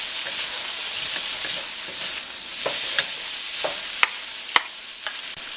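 Ribeye steak and mushrooms sizzle and fry in a wok during stir-frying, a steady close hiss broken by sharp crackles and pops that grow more frequent toward the end.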